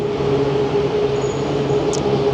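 A train curving around a monument rumbles past nearby with a steady, continuous roar and a faint high squeal near the end; no voices.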